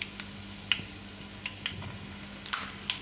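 Asafoetida sizzles in hot oil with curry leaves for tomato raita, a faint steady crackle broken by several small sharp pops and spits, close and alone without talk.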